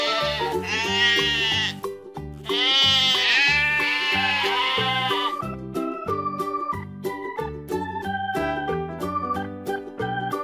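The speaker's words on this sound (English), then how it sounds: "Sheep." A sheep bleats twice in long, wavering cries, close and loud, followed by a plinking musical tune.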